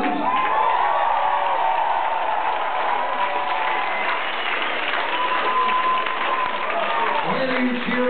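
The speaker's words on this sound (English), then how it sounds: "Why are you cheering about Ireland?" A concert crowd cheers and applauds steadily throughout, with dense clapping and whoops filling the space, loud and sustained with a singer's tones riding over it.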